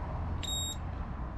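A handheld temperature gun gives one short, high, clear beep, about a third of a second long, over steady low background rumble near an RC boat.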